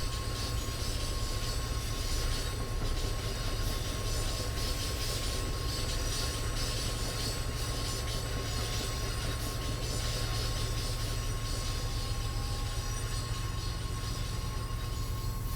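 A locomotive-hauled MBTA commuter train in Train Sim World 5 rumbles steadily, with a constant droning engine, wheel noise on the rails and a faint squeal. It plays on alone, with no talk.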